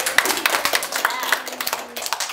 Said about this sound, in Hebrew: כולם מוחאים כפיים